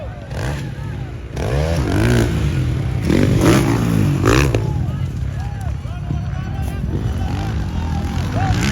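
A motorcycle engine revs loudly and nearby in rising and falling bursts, over crowd noise and excited shouting at a competitive race event.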